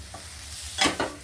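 A spoon gently stirs stuffed eggplant curry topped with coriander in a pan, two quick soft scrapes over a faint sizzling background, close and brief.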